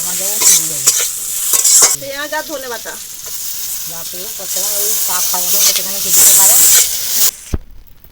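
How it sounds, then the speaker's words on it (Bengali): Tamarind flowers fry with turmeric in a pan, hissing and sizzling steadily while a spoon stirs through them. A voice talks over the cooking most of the way through, and the frying noise ends suddenly near the finish. "এবার একটু ঢাকা দিয়ে দিয়ে ভেজে নেব"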